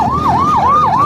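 Ambulance siren wailing loudly and close in a repeating rising-and-falling sweep, heard alone in a brief burst.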